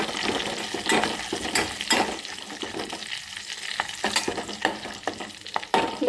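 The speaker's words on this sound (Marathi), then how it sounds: "एक चमचा बटर मी त्यात टाकत आहे त्याला छान प्रकारे आपल्याला हलवून घ्यायचं आहे" A spoonful of butter stirred in a hot pan for dal tadka, with a steady close sizzle and frequent sharp scraping, tapping spoon strokes against the metal.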